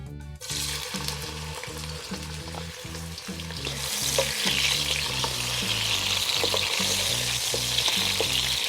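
Chopped tomato frying in a pan of okra masala, with a steady loud sizzle throughout and repeated soft scraping stirs, growing a little louder partway through.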